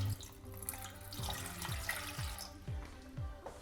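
Water streams from a tap into a medium saucepan, a steady splashing pour with faint dripping and low rising tones as the pan fills, close and fairly quiet.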